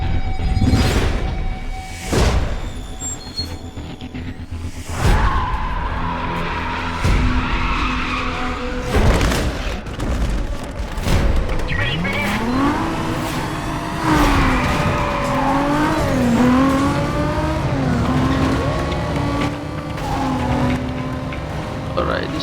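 Toyota Supra racing in the video game Need for Speed: Carbon, loud engine revving with rising gear sweeps, repeated tire squeals and skids, and a player talking over the game sound throughout.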